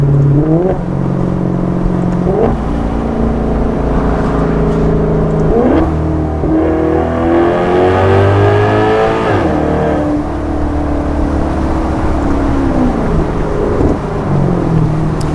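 A 2015 Maserati GranTurismo engine revs repeatedly, its exhaust note rising and falling in loud, close sweeps with steady idling between, alone without talk.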